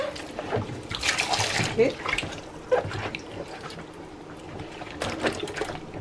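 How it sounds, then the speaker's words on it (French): Vinegar poured into cold water for washing catfish, a liquid splashing and trickling sound over several seconds, fairly close, with a brief spoken word over it. "Now, on va mettre le vinaigre."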